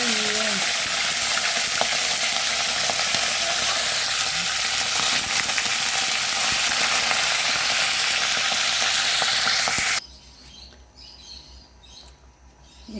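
Pork frying in hot oil for tokwa sisig, a loud, steady sizzle that runs unbroken for about ten seconds and then cuts off to quiet.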